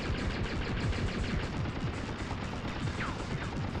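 A boss tank in the game Balls Deep: Apocalypse fires a pulse laser, a dense, loud, continuous stream of rapid crackling bursts that fills the whole few seconds without pause.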